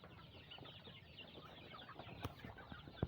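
Jawa super chickens, joper crossbreeds, cluck softly and scattered while being fed, with pecking taps and a few sharper knocks rising near the end, all faint and close.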